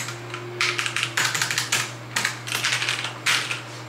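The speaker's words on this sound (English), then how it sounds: "So we have lovely rainbow gaming keyboard." Bursts of rapid clicking keystrokes on a rainbow gaming keyboard, close and crisp, arriving in several quick runs separated by short pauses over a low steady hum.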